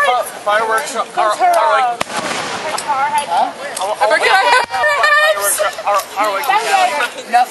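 Fireworks at a backyard display go off as rapid crackling bursts and pops, dense and close, under loud overlapping chatter and laughter from a crowd.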